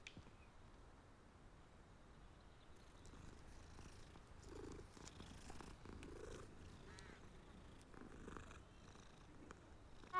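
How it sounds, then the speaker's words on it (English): A cat being petted in a Hogwarts video game purrs in a faint, steady, rhythmic rumble that continues without pause throughout. "You just pet a cat."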